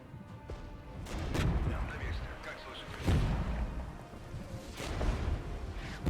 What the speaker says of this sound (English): Alright, so there's artillery coming in.